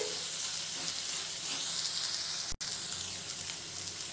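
Pineapple curry ingredients sauté in a hot pan with a constant, even sizzling hiss, broken once by a brief moment of silence midway.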